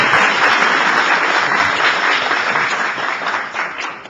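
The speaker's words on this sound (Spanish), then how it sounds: "Un fuerte aplauso." A studio audience gives strong, sustained applause on a television special about Santa Rosa de Lima, a dense and loud wash of clapping that fades slightly toward the end.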